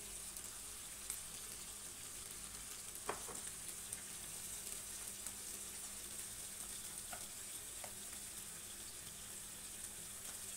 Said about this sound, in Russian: Обжарим до прозрачности